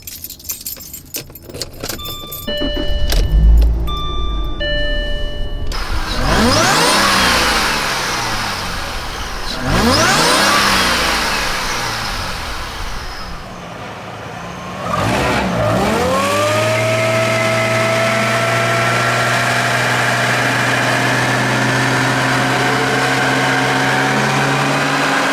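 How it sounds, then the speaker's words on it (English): Keys jangle before a supercharged Jaguar XJR6 engine with an upgraded pulley fires up, sweeping through three loud revs with rising supercharger whine, then settling into a steady, close idle. "Y'all want to hear that engine?"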